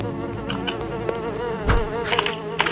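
Flies buzz continuously in a Roblox horror game with a wavering, whining drone, moderately close, joined by scattered clicks and higher chirps.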